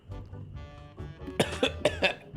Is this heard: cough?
yes